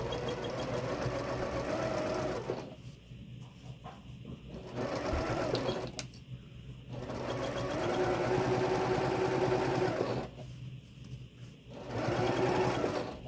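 A sewing machine stitches a mini-charm precut zipper bag in bursts, steady whirring runs broken by brief pauses, fairly quiet and close.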